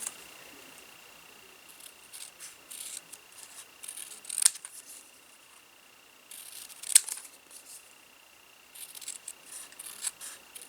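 Small scissors snipping out paper and cardstock pieces for a miniature working three-ring binder: soft, close, repeated cuts in irregular bursts, with two crisper snips standing out, no talking.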